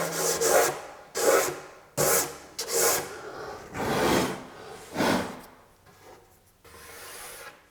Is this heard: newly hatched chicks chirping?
no